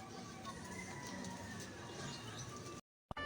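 A breeder's flock of pigeons coos softly on a lower floor beside a house, low murmuring calls set against steady background noise before the sound abruptly cuts out near the end.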